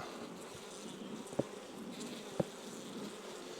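Honeybees in a newly established hive building comb, giving a steady low, faint buzzing hum throughout with two brief soft clicks.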